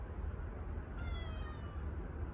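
A cat gives a single drawn-out meow, fairly close and clear over a low background rumble, with no talking.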